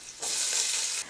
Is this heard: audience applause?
no